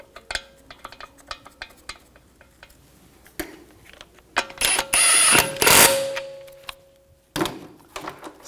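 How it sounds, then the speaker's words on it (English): Metal lug bolts threaded by hand onto a Volkswagen Jetta TDI wagon wheel, with a string of light ratcheting clicks and rattles and a louder burst of metallic scraping midway, all close up. "Take the lug bolts, get those started."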